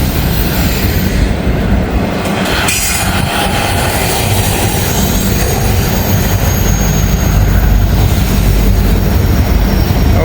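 A freight train with two distributed power units rumbles past close by, a steady loud roar of locomotives and rolling cars with faint wheel squeal throughout.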